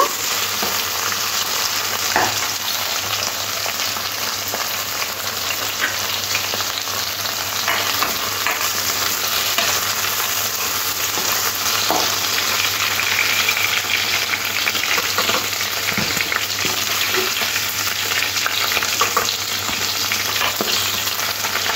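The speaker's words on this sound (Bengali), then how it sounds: "এখানে আমি ঢ্যাঁড়সগুলো দু টুকরো করে কেটে তেলের মধ্যে দিয়ে দেবো।" Halved okra pieces fry in hot oil with a loud, steady sizzle close to the microphone, with occasional faint stirring clinks over a low background hum.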